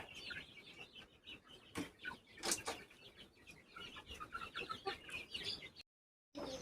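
Guinea fowl clucking and chattering continuously, several birds calling over each other at close range with sharp bursts, then a brief silent gap near the end.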